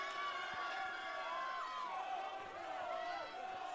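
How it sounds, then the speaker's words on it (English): A crowd of fans cheers at a college field hockey game between Swarthmore and Haverford, a steady distant roar running under a commentator's voice. "The fans are cheering"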